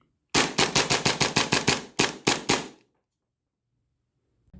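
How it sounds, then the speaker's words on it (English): An airsoft DC-17 Star Wars blaster conversion firing blue tracers, a rapid burst of about nine sharp cracks followed by three more spaced shots, loud and close, then silence. "so I did get some footage to show you of it shooting with the blue tracers"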